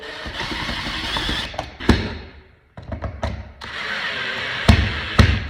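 A Phillips head bit on a power driver tightens the mounting screws of an in-ceiling speaker set into a pre-cut hole, giving whirring driver bursts with creaks, clicks and thumps, briefly pausing midway.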